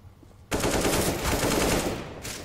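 Gunfire in CS:GO starts abruptly after a quiet half second: a loud, continuous stream of rapid shots that blend into a steady roar, with a final sharp burst near the end.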